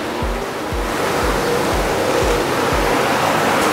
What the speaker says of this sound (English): the water from the filtration system will overflow to the biofilter section